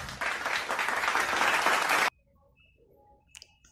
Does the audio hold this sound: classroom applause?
yes